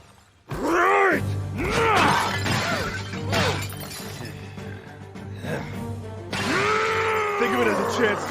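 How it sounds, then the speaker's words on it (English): Skeletons being smashed in an anime battle, with crunching, shattering impacts tangled with voiced groans and effortful cries, loud and busy throughout, with a fresh burst of smashing near the end. "Keep smashing skeletons for as long as you can."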